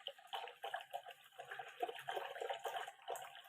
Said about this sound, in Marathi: मी याच्यात पाणी घालते,